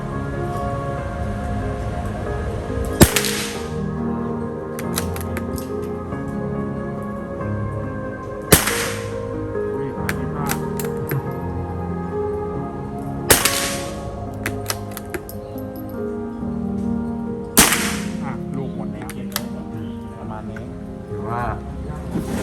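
A CZ 457 stainless .22 LR rifle fires four sharp, loud shots spaced several seconds apart at a shooting range, with people talking between the reports.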